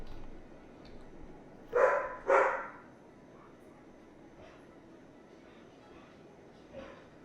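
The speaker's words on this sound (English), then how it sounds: "my dog was going absolutely manic" A dog gives two quick barks in the background, a short pause between them, then goes quiet apart from a faint yip later over a low room hum.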